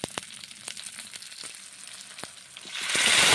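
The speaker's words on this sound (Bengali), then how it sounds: "কলাই ডালগুলো কড়াইয়ের মধ্যে দিচ্ছি, গরম তেলে ছেড়ে দিচ্ছি" Urad dal is tipped into hot oil with fried cumin in a wok: light crackles and pops give way to a sudden, loud, surging sizzle close up.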